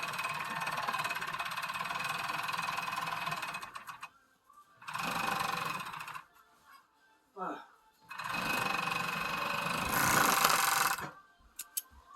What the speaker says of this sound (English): And then I'm going to serge it onto the main piece.